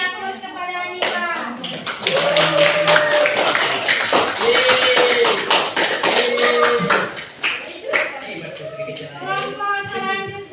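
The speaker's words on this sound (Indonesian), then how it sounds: "Kalau paham, kita beri aplaus kepada Anita." Applause for a student named Anita in a mathematics classroom: a group of pupils claps steadily for several seconds, dense and fairly close, with children's voices chattering over the clapping.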